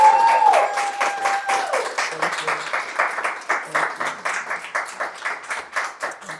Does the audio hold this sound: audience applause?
yes